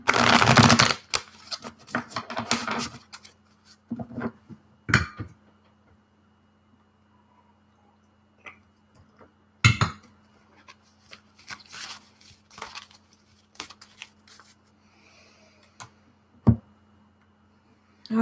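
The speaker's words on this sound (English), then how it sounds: "let's just shuffle the deck." A deck of tarot cards is shuffled in scattered bursts of riffling and soft slaps, loud at first and then thinning into sparse taps and flicks over a faint steady hum, with no talking.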